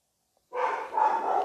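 A pet dog barks once indoors during a live stream, a single short, fairly close woof after a moment of silence.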